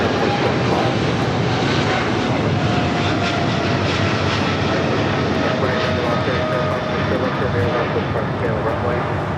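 An airliner landing on runway 25 left at LAX gives a loud, steady roar of engine noise. Radio chatter can be heard faintly underneath throughout.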